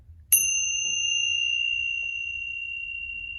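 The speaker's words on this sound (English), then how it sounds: "you could just come with some tingsha bells" A single bright, high ding rings out and sustains with a long, pure shimmering decay in an otherwise quiet space.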